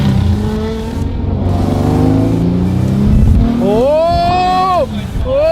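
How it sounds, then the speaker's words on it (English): A Toyota HiAce van fitted with an R35 GT-R engine revs hard, its loud rising engine tones sweeping up and down close by, with people talking and exclaiming over it. "Give it a little rev."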